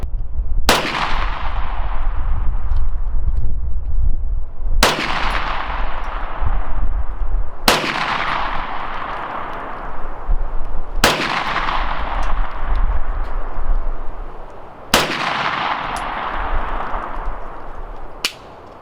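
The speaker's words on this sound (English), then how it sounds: "load it up again, take 5 more shots" KelTec Sub2000 Gen 2 carbine fitted with a red dot sight, firing five single shots spaced a few seconds apart, each a loud sharp crack with a ringing outdoor echo that fades before the next.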